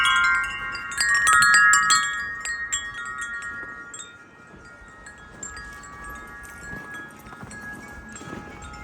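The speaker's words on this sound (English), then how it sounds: "Man, I freaking love this wind chime." Metal wind chime ringing in strong wind outdoors, with bright sustained tones that cluster loudly early on, then keep chiming more sparsely and softly over steady gusty wind noise.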